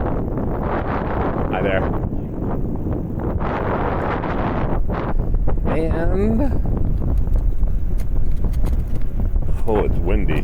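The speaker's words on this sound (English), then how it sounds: "oh, it's windy" Strong gusts of wind roar across the microphone beside a river, loud and buffeting for the whole stretch. A person speaks briefly under the wind.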